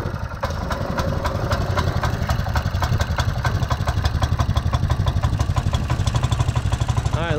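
A go-kart engine that has just been started idles steadily up close, a rapid rhythmic putter with a constant vibrating pulse and no talking over it.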